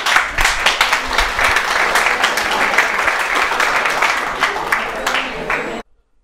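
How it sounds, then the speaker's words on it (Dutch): Audience at a caregivers' day event in Altena giving a big round of applause, steady vigorous clapping with distinct nearby claps over about six seconds before cutting off abruptly. "daarvoor mag u zelf toch een heel groot applaus geven"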